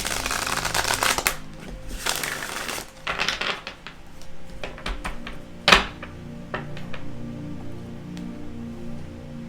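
Tarot cards being shuffled and cut by hand, with bursts of riffling and flicking early on, then scattered soft taps and a sharper slap as the deck is cut, mostly close and alone.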